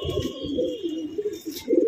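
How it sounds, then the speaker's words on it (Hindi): Pigeons coo close by in a loft, soft throaty rolling calls repeating throughout, with faint chirps over the top. "कबूतर है, बहुत ही उड़ने वाला कबूतर है और ये भी बढ़िया कबूतर है।"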